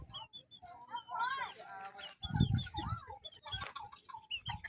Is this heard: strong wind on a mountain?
no